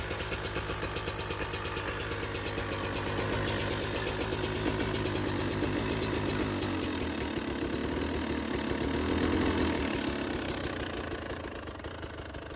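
A 2020 KTM 300 XC TPI dirt bike engine idling after a cold start at -2°C, a fast, even two-stroke putter running continuously up close, slightly rough, with no voices.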